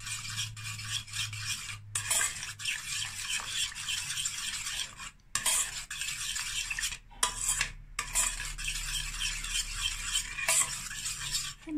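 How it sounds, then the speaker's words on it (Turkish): Cauliflower and broccoli gratin mixture stirred in a bowl, giving a steady scraping, rubbing texture with brief pauses, close and moderately loud, with a low hum underneath and no talking. "Önce bu üçlüyü bir karıştırayım. İyice karıştırıyorum."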